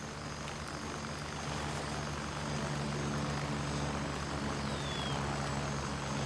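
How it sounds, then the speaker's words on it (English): An enemy helicopter in a video game flies overhead, producing a continuous, even rotor-and-engine drone that holds steady throughout, with no talking. "Oh, enemy heli."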